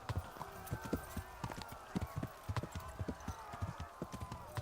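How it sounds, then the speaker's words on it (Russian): A horse gallops in the medieval video game Kingdom Come: Deliverance, with a steady run of rapid hoofbeats clopping over a low rushing background, faint and continuous throughout. "Давай галоп."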